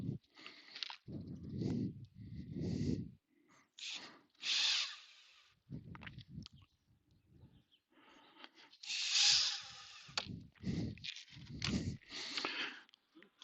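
A power drill drives screws into a panel of an outdoor cat shelter in several short whirring bursts, separated by pauses and handling noise, close up.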